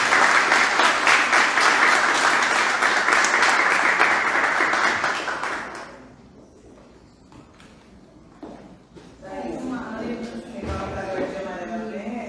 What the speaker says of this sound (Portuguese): uma salva de palmas para vocês